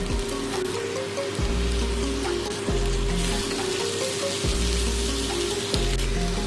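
Chopped tomato sizzles in a hot pan with whole spices, giving a continuous crackling hiss over a low, pulsing hum from the stove or fan.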